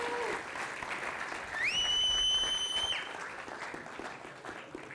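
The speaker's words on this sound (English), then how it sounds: "Can you give them a round of applause" At a computing, AI and data science conference, an audience gives the organising committee steady applause, and midway a sharp rising whistle-like tone holds for over a second over the clapping.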